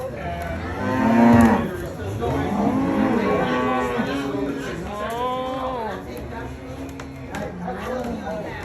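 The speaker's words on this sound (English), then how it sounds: "Look at the cows." Cattle on a farm moo repeatedly at close range, several long low calls overlapping one after another, with a person talking in the background.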